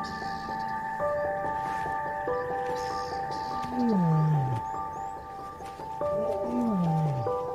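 Mohawk, a male lion of a Luangwa Valley pride, roars twice at dawn in the bush, each a deep descending groaning call, heard at middle distance over steady insect and bird sounds.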